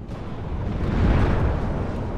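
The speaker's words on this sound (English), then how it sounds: "We fire one back at him. He's dead." An M1A1 tank cannon exchange in the Cold War strategy game WARNO: a deep, swelling boom builds and peaks near the middle, then rumbles away, loud and close, with no voices.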